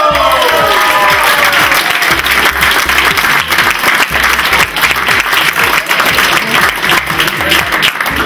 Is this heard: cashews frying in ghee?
no